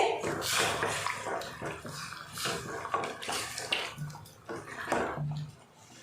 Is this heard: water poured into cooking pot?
yes